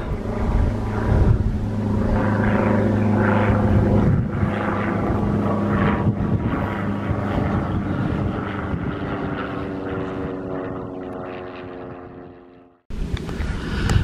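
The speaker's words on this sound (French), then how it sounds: "quand c'est pas un avion de ligne, c'est des avions de tourisme" Light tourist propeller airplane passing overhead near mountain lakes around 2000 m in Haute-Savoie, a steady droning engine hum that fades out near the end before other outdoor noise resumes.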